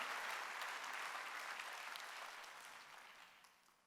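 A church congregation at a Sunday worship service claps in a burst of applause that is strongest at the start and gradually fades away over a few seconds.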